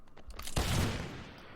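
A sudden crackling burst of musket or firearm volley in the game Mount & Blade: Fire and Sword, loud and sharp after a faint rumble of battle, then a ringing decay.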